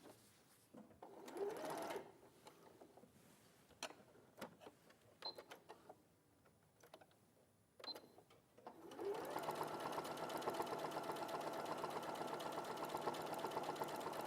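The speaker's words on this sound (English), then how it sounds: "So I'm machining along the bottom." A sewing machine stitches along the bottom seam of a project, a steady continuous whirring run in the second half, preceded by short bursts and clicks amid quieter sounds.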